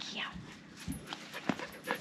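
Several dogs outdoors at a waterfront campsite give soft whimpers and brief yips in short bursts, with people talking over them.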